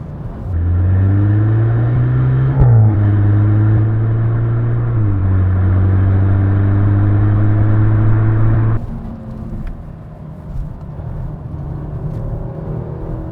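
A 2024 Audi S3 prototype accelerating hard, its engine note rising loud and close through successive gears, then dropping sharply as the throttle is lifted and settling into a lower, quieter hum, with no talking.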